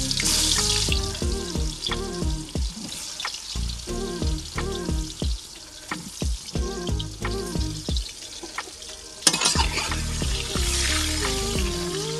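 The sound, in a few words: bananas frying in hot oil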